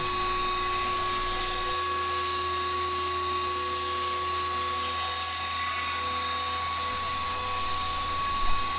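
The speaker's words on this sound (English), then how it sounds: "In this project, my mill is basically like the world's most rigid router." A CNC metal mill, used as a rigid router, machines a 3D wood plaque with a steady high-pitched whine and a constant motor drone that stays even and continuous throughout.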